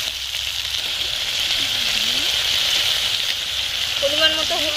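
Stone-ground spice paste with turmeric fries in hot oil for a chicken curry with kohlrabi, a steady close sizzle and hiss that runs throughout, with a voice speaking faintly underneath.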